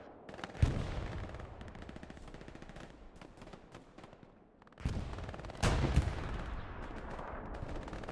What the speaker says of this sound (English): Yeah, Mystic under fire there by the tank and gets atomized.